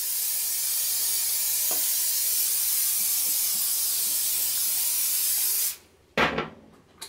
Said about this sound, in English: spray the top of them with the vegetable oil